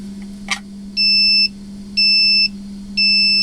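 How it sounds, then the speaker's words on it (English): Three evenly spaced electronic beeps from a battery tester, one per cell of a 3-cell battery, each about half a second long, ring out clearly over a steady low hum, with a brief click just before them. "the number of beeps tells you how many cells"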